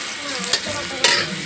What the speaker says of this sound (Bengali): পেঁয়াজটার কাঁচা ভাবটা যাতে না থাকুক, ততক্ষণ আমরা একটু পেঁয়াজটা ভেজে নেব।